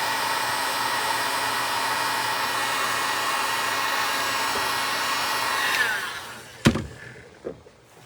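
A heat gun blows a steady, loud whooshing roar while warming wax on the wooden stock of a G-98 Imperial German Mauser rifle, then cuts off, leaving a couple of sharp knocks and faint handling sounds.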